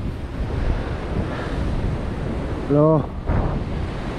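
Ocean surf washes in below a 14 m sea cliff near Sydney, a steady broadband rush with wind buffeting the microphone, while a brief voice cuts in near the end.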